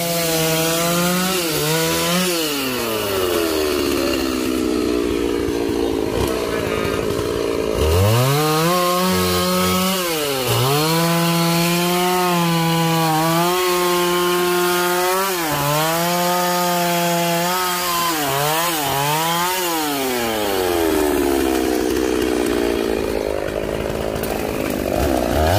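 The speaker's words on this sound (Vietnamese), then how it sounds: "Thì mình nghĩ là cái đoạn này anh Tùng anh sẽ cưa ra làm hai." A chainsaw roars continuously close by, its engine pitch dipping and rising as it bites into a giant Melaleuca tree, loud and unbroken throughout.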